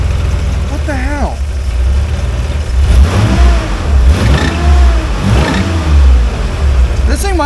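A 1986 Nissan 300ZX engine revs repeatedly in loud, close bursts, climbing and falling several times over a rough idle.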